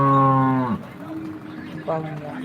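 A cow at a cattle market in Modnimb gives a loud, close moo that breaks off, followed shortly by a second, shorter low call.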